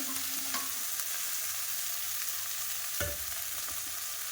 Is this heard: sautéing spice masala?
yes